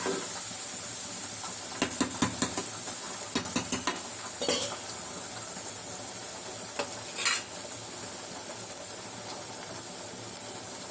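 Masala paste sizzles steadily in hot oil in a home kitchen while a utensil stirs it, with scattered scraping clinks against the pan over a constant hiss, no talking.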